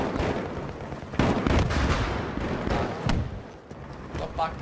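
RPG fire and explosions in the Battlefield 3 video game: dense, booming blasts and rumbling gunfire layered together at steady loudness, with a few sharp bursts standing out from the chaotic battle noise.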